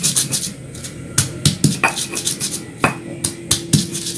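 Garlic and shallots pounded with a mortar and pestle for spicy cassava bergedel, giving sharp, irregular knocks and scrapes of stone close by, with short grinding strokes between the hits.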